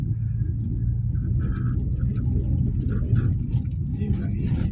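A Toyota Innova's engine drones at low pitch while driving in third gear, a steady close cabin rumble with faint road noise.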